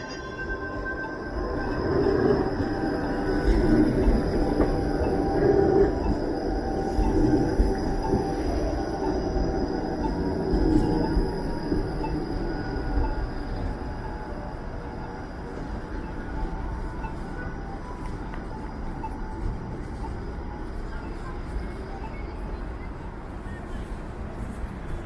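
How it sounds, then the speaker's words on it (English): Toronto streetcar pulling into a station loop beside a subway station, rumbling louder and nearer at first with faint wheel squeal, then easing off as it rolls through, with a steady background hum. "here comes a streetcar actually"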